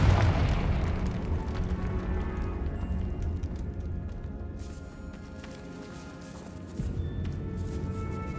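A Confringo spell explodes in Hogwarts Legacy, a deep booming blast that rumbles and slowly decays, followed by a second lower thump near the end.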